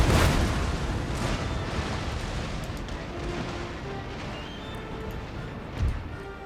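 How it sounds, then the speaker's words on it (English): A naval cannon volley firing grape shot in the Empire: Total War battle game, a loud broadband booming roar that opens strongest and lingers as a dense, rumbling wash. "Grape shot is designed just to kill crew members, and you can see a few guys drop dead with that volley."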